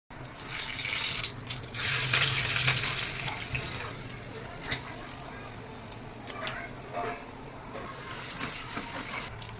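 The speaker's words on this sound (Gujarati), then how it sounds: "હવે એને વઘારી નાખીએ" Boiled potato and chickpea mash for panipuri is tempered in a hot pan, a close sizzle swelling early then settling into softer frying with scattered stirring scrapes and clinks.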